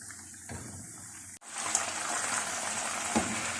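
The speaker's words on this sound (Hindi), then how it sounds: "हल्की आंच पर आप इन्हें फ्राई कर सकते हैं।" Chicken koftas fry in oil on low heat in a steady, moderate bubbling sizzle, broken by a brief thump before the frying noise rises and continues alone.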